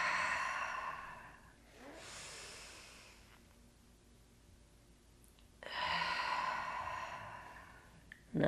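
Two deep, breathy exhales during a breathing exercise, each a soft, airy rush lasting a couple of seconds, close to the mic and separated by quiet.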